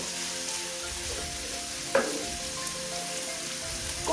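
Boiled chicken sizzling and frying in a pan after a splash of water, a steady crackling hiss with a brief sharp spit partway through and occasional stirring, close and alone.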